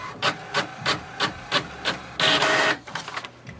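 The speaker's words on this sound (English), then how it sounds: "It will send a command for the printer to print the printer information page." HP Envy 6020 inkjet printer running off an information page: a steady series of rhythmic mechanical clunks about every third of a second, then a louder whirring rush of paper feed before softer ticking, close by with no talking.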